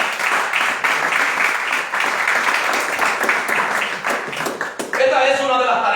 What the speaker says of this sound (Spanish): Denle fuerte palmas al Señor.